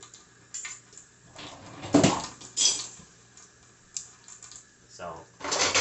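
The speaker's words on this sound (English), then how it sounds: "I'm washing silverware and all the plates and dishes and bowls and stuff." Silverware, plates, dishes and bowls clink and clatter in intermittent bursts while being washed at a sink, with a voice talking in the background.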